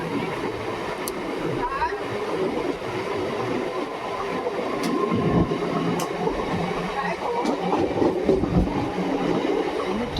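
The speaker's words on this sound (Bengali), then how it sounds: "ট্রেন চলে এসেছে কিন্তু মানে বিশাল লম্বা লাইন রয়েছে জেনারেলে ওঠার জন্য" A train pulls in and runs through a busy station where a long queue waits for the general coach. A continuous rolling clatter of wheels with faint squeals carries over a murmuring crowd.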